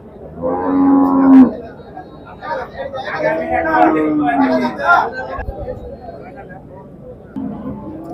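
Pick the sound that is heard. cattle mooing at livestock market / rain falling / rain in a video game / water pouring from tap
cattle mooing at livestock market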